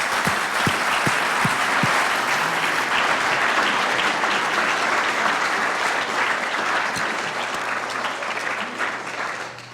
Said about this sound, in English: So a round of applause for Tony.